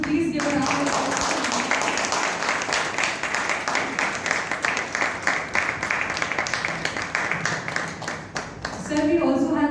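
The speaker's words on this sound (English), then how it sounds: "Anshika, I would request all of you to please give a round of applause." A room full of people applauds at an award ceremony, a steady wash of clapping that holds for several seconds before talk returns at the end.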